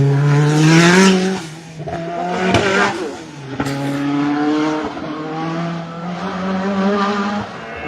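A race car with an R5 Turbo engine roars past at a hill climb. The engine revs hard, shifts gear and fades, then a second loud surge follows, heard from the roadside.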